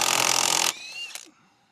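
An impact wrench fitted with a 27mm impact socket loosens the sprocket nut on a Kawasaki Z1000SX motorbike: a loud, close hammering burst, then a brief whirring spin-down that fades to quiet.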